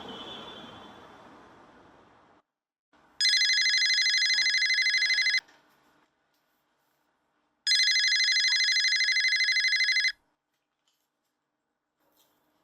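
A telephone rings in two loud bursts, each about two seconds long, separated by a short pause, with near silence before and after.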